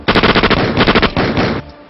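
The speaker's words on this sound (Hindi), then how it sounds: "मस्जिद में कुछ लोगों ने जन्नत में जाने की खातिर नमाजियों पर गोलियों की बौछार कर दी" Rapid automatic gunfire in a film scene of an attack on worshippers in a mosque, a loud close burst of about a dozen evenly spaced shots, then a brief dense stretch before stopping.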